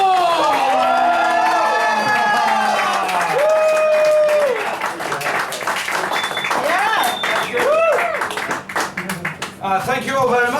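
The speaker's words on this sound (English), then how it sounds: "Claire, you're going to start the applause." A stand-up comedy audience claps and cheers loudly, with whoops and shouting voices rising and falling over continuous applause.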